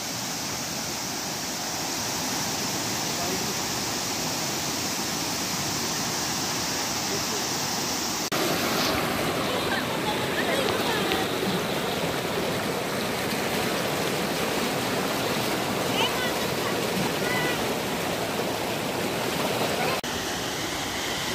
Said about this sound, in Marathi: धबधबा लागलाय.